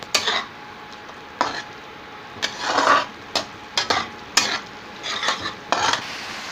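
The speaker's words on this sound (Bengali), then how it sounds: "এবার ভালো করে এবার নেড়ে নিলাম।" A spatula stirring tangra fish masala in a pan with homemade fried spice mix and garam masala, repeated scraping strokes in an irregular rhythm over a soft sizzle, close and fairly loud, with no speech.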